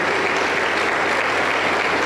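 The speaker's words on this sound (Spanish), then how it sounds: "Y los aplausos para el Señor Jesús." A Pentecostal church congregation applauds loudly and continuously, a dense, even roar of many hands clapping with no voices standing out.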